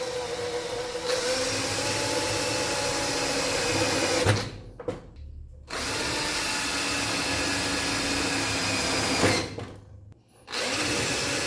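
Vacuum cleaner sucking dirt from a CNC plasma cutter control panel, a steady close roar running several seconds, cutting off briefly, then resuming with a sharp drop-out and restart.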